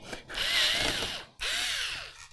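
A cordless driver turns screws while an Enermax Liqtech 360 TR4 II liquid CPU cooler is installed, giving two close whirring bursts with rising and falling motor pitch and a short pause between them.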